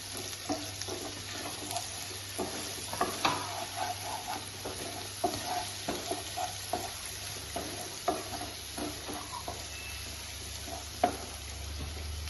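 Crushed ginger and garlic fry in a pan for a prawn pathiri, a steady close sizzle running throughout with frequent small clicks and scrapes of a spoon stirring.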